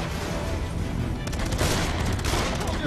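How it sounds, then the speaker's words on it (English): Gunfire in the video game Beyond: Two Souls, a dense, continuous fusillade of rapid shots and crackling blasts, loud and close, with a sharper burst of repeated cracks in the second half. "Who you shooting at?"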